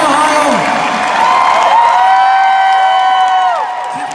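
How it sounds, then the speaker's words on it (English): A rock concert crowd in Youngstown, Ohio roars with sustained cheering, whoops and shouts, loud and close, swelling and then easing off near the end. "Keep clapping."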